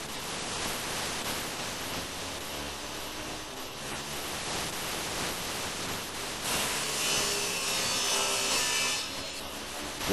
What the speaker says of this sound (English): This saw will cut it to the correct size.